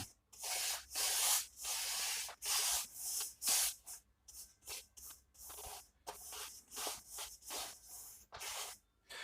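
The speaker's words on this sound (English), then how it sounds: "Really scrub it into the canvas and make sure you cover everything." A 1-inch brush scrubs linseed oil into a canvas in rapid back-and-forth strokes, a close, rhythmic bristly swish that repeats in quick bursts with brief pauses.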